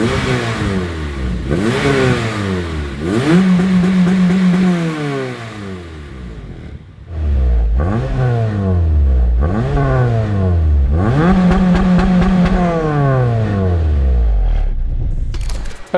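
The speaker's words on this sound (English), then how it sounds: "Okay, so we've just dynoed the car." A Honda Civic fitted with a Milltek Sport catback exhaust revs hard on a dyno. The loud engine climbs through repeated rising sweeps, with brief drops between pulls and a short lull in the middle, and no talking.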